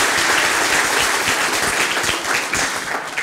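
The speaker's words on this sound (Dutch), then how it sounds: "voor het hele bedrijfsleven graag een warm applaus." Steady applause from a crowd at a mayor's New Year's speech, dense and continuous throughout, fading slightly near the end.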